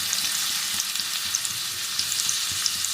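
Grated garlic and ginger sizzle steadily in hot tempering oil for a spicy moong dal tadka, a dense, even frying hiss with small crackles throughout and no voices.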